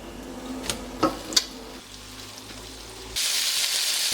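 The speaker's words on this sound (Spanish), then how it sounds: "Empezamos sofriendo los gambones y cigalas en la cazuela donde haremos el arroz" Prawns and langoustines fry in a little oil in a paella pan, a few clinks early on, then a sudden bright, loud sizzle bursting in near the end.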